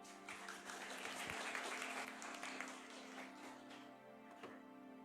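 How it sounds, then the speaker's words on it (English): A university game jam audience applauds a team after its presentation, a fairly quiet, distant patter of clapping in a room with a steady electrical hum underneath, tapering off toward the end. "So thank you and big round of applause for them."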